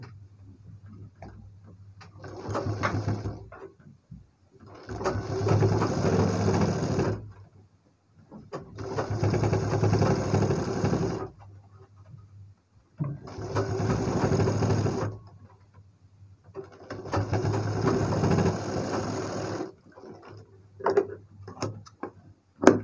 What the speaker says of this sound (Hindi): पलटने के बाद में पाइपिंग की जड़ में सिलाई लगा के जमा लेंगे